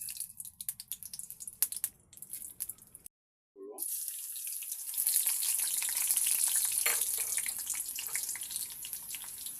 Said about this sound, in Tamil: எண்ணெய் சூடான பிற்பாடு கடுகு எண்ணெய் சேர்த்துக்கொள்வோம்.